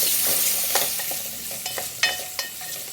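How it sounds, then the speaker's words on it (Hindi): Two potatoes frying in hot oil, giving a steady close sizzle broken by a few sharp crackles and stirring knocks, fairly loud and with no talking. "इसी ऑयल में हम दो मैंने आलू लिए और इनको फ्राई कर लेंगे।"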